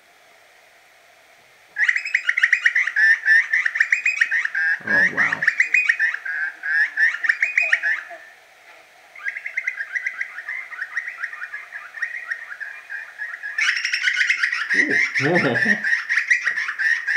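Butcherbird call played from the Oceania expansion of the Wingspan board game, a loud, rich run of repeated warbling whistles that continues for most of the stretch, with brief exclaimed voices breaking in twice.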